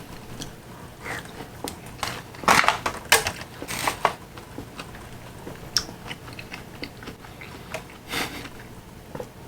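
Someone eats hotel quarantine food up close, with crunchy bites and chewing in irregular bursts alongside light clicks and rustles, and no talking.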